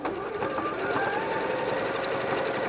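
A Bernette b38 sewing machine runs steadily, stitching a narrow, short stitch of the kind used for satin stitch around an applique. Its rapid, even mechanical hum is close and continuous throughout, with no talk.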